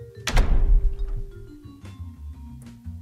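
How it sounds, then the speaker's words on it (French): A heavy thunk of a door slamming near the start, followed by a low rumbling room tone with faint knocks. "on a la porte qui claque de temps en temps"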